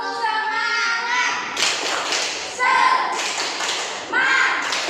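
Schoolchildren in a classroom lesson perform the rhythmic 'tepuk semangat' spirit clap, a patterned run of sharp group claps and thumps mixed with their chanting voices, loud and close.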